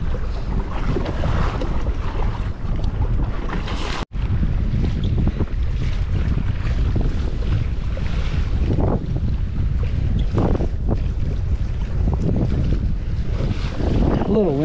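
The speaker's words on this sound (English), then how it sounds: "A little windy." Strong storm wind buffets the microphone on a lake while kayaking, a steady loud roar with choppy water, with a brief dropout near the middle.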